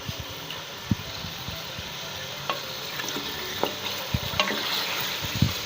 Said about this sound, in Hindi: एक दफ़ा अच्छी तरह इसको हिला दें ताकि ये साथ में लगे।